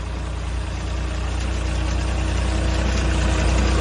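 A tractor engine runs steadily at a low, throbbing idle, loud and close, with no voices.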